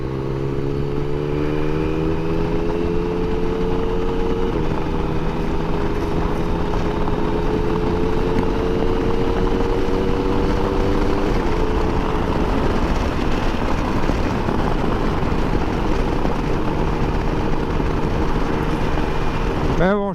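A Yamaha Tracer 9 GT+ motorcycle engine drones steadily while riding, its pitch holding and slowly shifting under constant wind rush, heard up close for the whole stretch.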